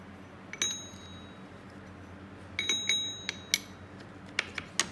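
Gears and a transmission shaft going into a Can-Am 1000 transmission, heard as a few sharp metallic clicks and clinks in short clusters over a quiet background, with no talking.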